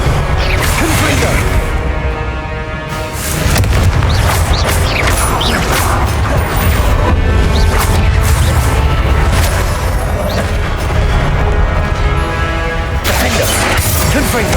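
Repeated Confringo fire-spell explosions in Hogwarts Legacy, booming blasts and crashes layered over continuous combat effects, whooshes and clanking mechanisms, loud and dense throughout with a brief dip early on.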